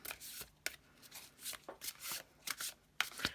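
Large tarot cards being shuffled by hand, a series of soft papery riffles and slaps coming in irregular bursts, close and fairly quiet, with no talking.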